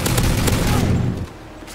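Rapid, loud gunfire bursts from a shooter video game, a dense volley of pistol shots lasting about a second before cutting off abruptly.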